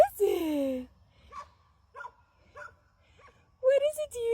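New puppies on a farm give short yips and whimpers, several small high-pitched bursts spaced through a quiet stretch, with a person speaking at the start and end.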